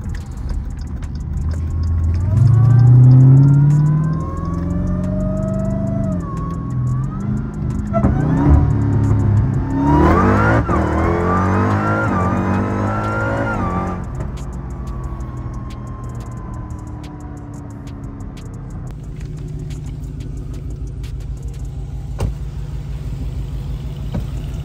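An AWD Chrysler 300 Demon 170 roars through a 0-60 pull, its engine note rising in pitch as it accelerates hard, loud and close, then easing off into a lower rumble.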